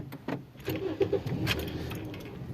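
A car with a miscalibrated throttle body cranks and starts, its engine rough and misfiring with an uneven, knocking idle, close by and alone.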